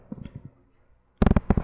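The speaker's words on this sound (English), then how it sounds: "Did you just shoot me" Gunshots in a gang fight game: a quick volley of loud sharp pops follows a quieter cluster of thuds, close and punchy.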